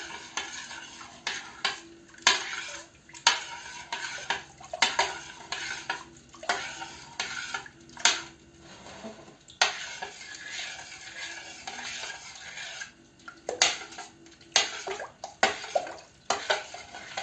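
Repeated scraping and clinking of a utensil stirring salt into plain unboiled water in a container for fermenting cucumbers, close by, in irregular bursts with brief pauses, no talking.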